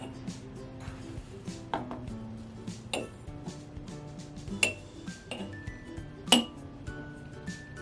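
Chia and flax seeds spooned into glass jars, a sparse series of light clinks and taps of spoon against glass with soft rustling in between.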